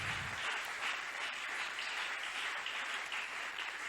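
A church congregation applauds and cheers at a worship event, a dense, steady wash of clapping that runs loud and continuous throughout with no distinct voices.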